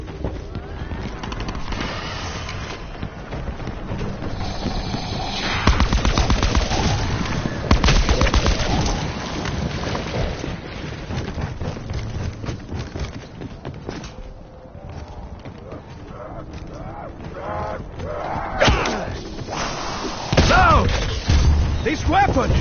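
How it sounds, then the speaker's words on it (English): A loud weapon firing in Black Ops 4 Zombies keeps up dense, sustained gunfire and blasts with repeated heavy bursts, mixed with game voices and effects throughout. "This weapon! It is loud!"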